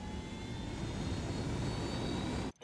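A steady, loud roar of a helicopter's engine and rotors in a Ghost Recon mission set in Bolivia, droning without a break before cutting off abruptly at the end, with no talk.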